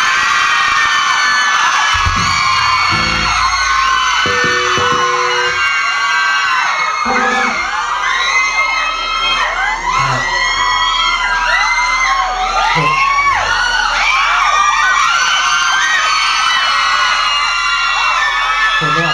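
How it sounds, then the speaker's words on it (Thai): A large crowd at a bar and restaurant concert screams and cheers loudly and continuously, with shrill high-pitched shrieks and whoops overlapping throughout. "คนเยอะอย่างนี้นะขอเสียงกรี๊ดพิเศษสักครั้งได้ไหมฮะ"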